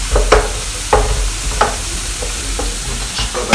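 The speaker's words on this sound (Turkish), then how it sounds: "Şimdi bir çay bardağı soğanımız böyle kavrulsun burada." A cup of onions frying in oil in a pan for meatballs, a steady loud sizzle with periodic scraping stirs every half second or so, close up and with no talking.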